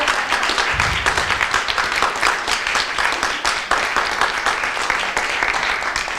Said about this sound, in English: Big applause for this group, please.